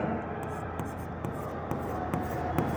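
A pen scratches across paper close up while an amount is written into an accounts problem, with soft strokes and taps under quiet background hum.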